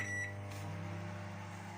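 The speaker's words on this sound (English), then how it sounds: "Then it goes in the microwave." A microwave oven hums steadily as it cooks scrambled egg with cheese, a low, even drone with a faint beep near the start, quiet and close with no talking.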